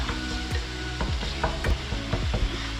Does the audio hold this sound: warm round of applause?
no